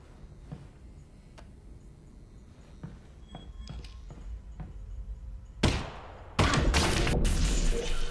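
Scattered clicks and thuds build up, then a sudden burst and a loud, sustained roaring blast of trip mine explosions in Half-Life: Alyx fill the latter part.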